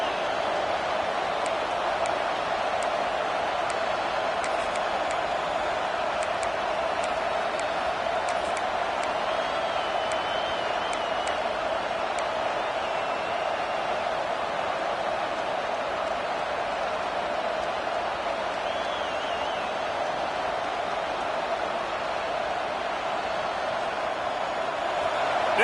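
Steady roar of a large stadium crowd at a football game, loud and continuous throughout, making noise against the offense, with a faint announcer's voice woven into the dense wash of sound.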